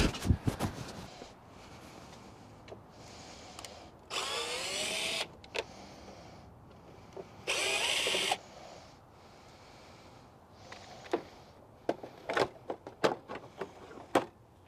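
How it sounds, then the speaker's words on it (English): A power tool drives out Phillips screws from a small cover panel on an R32 intake in two loud, steady whirring bursts of a few seconds each, followed by small clicks and handling clatter, with no talking. "We're gonna remove both of the screws on this little cover panel and get it out of the way as well."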